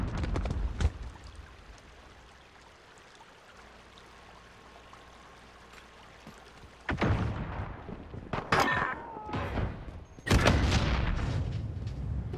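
A missile launch in Call of Duty: Modern Warfare: a quiet low drone gives way to a loud roaring burst with a sharp crack, followed by further heavy booming rushes that swell to a sustained roar.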